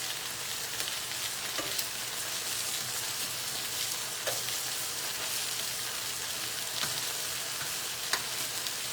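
Ginger scallion beef sears in a hot pan, giving a steady, dense sizzle and crackle throughout with occasional sharper pops, close up and without talk.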